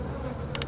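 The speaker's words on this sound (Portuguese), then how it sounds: "Cara, essas moscas aqui, mano." Flies buzz in the horror video game From Day To Day Terror, a steady close insect drone with a few brief rising whirs near the end, heard alone without speech.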